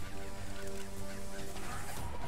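Turkey gobbling from the video game Immortal Redneck, a dense, continuous run of rough fowl-like honking calls amid busy game noise, loud and close throughout.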